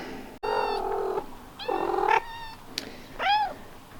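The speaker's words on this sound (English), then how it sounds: "And Button and Ponder, two of our kitty ladies, with two little kids here that I think are going to be named Whiskers," Two female cats with kittens on a high mountain valley homestead meow several times in close succession, loud and near, with short pauses between the calls and no talking.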